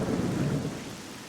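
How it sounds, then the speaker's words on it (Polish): Thunder rolls over steady rain in the video game STALKER: Shadow of Chernobyl, a deep rumble that swells and then fades under the constant hiss of rainfall. "Nie miało kiedy tutaj strzelać piorunami i padać deszcz."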